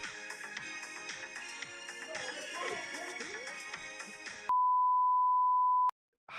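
A phone gives off a single long, steady electronic beep lasting over a second, sounding clearly after a stretch of busy background noise.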